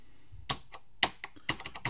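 Keys on the keypad of a TEC-1G single-board computer are pressed, giving several sharp, close clicks in an irregular rhythm, some in quick pairs, with no talking.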